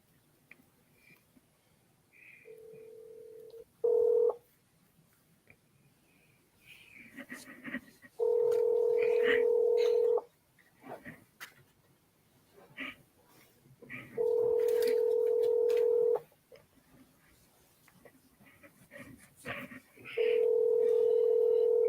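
A telephone call is dialed and rings out, with a short burst of dial tones followed by three long, evenly spaced ringback tones, separated by quieter stretches of faint background voices and room noise.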